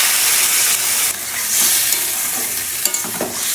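Vegetables frying in a hot wok with oil as water is poured in, a loud steady sizzle and hiss with stirring scrapes, several bursts of steam swelling then easing.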